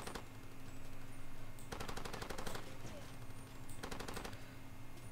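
Heavy gunfire from a big weapon in the Far Cry 2 video game, two sustained bursts of rapid automatic shots over a constant low rumble, loud and close, with a voice talking faintly between them.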